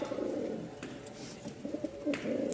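Rajshahi Giribaz pigeons at a Dhaka pigeon market coo in low, throaty, repeated calls, close and continuous with no talk.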